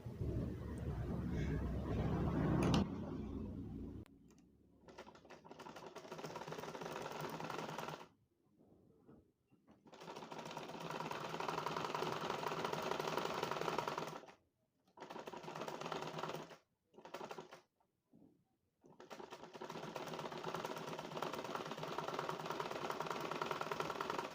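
A sewing machine stitches the sides of a winter cap, running in several close, loud bursts of rapid mechanical whirring with short silent pauses between the seams.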